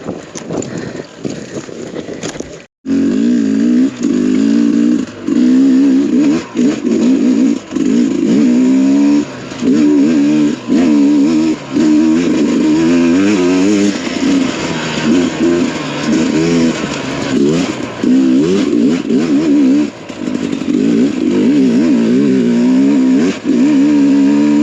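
A Sherco motorcycle rides along steadily after a short pause near the start, its engine droning loud and close with wavering pitch as the throttle rises and falls.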